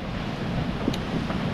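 Wind at sea on board a sailboat in about 12 knots of breeze, sailing from Les Sables toward the Azores: a steady, loud rushing of wind noise with a low swash of water beneath, alone without voices.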